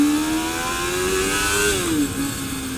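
Suzuki Bandit 250 motorcycle's 250 cc engine revving high, a loud, steady buzzing tone whose pitch climbs gradually, then drops as the throttle eases off, heard up close with wind noise in the background.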